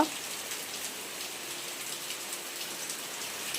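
Heavy monsoon rain falls on a Konkan village as a steady, soft hiss of countless drops, even and continuous with no pauses.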